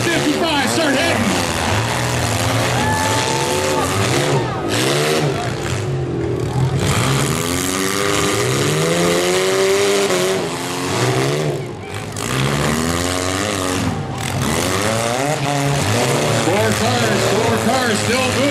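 Demolition derby cars at the Georgetown derby grind and rev across a dirt track, engines roaring and surging close by, with crowd noise and announcer-style talk mixed over the steady motor din.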